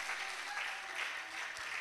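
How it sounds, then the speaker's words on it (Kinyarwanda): A church congregation claps in a sustained, bright burst, the sound swelling and easing in soft waves from start to finish, with no speech over it. "Reka tuyikomere amashyi menshi"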